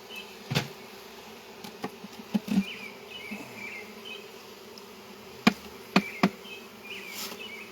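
Steady buzzing of many bees fills the air, punctuated by a few sharp knocks and taps.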